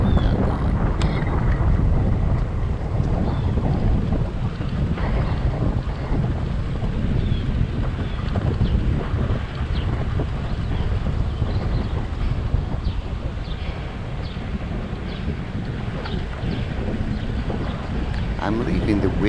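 Loud, constant wind buffeting a microphone while cycling, a dense low roar with no pauses throughout.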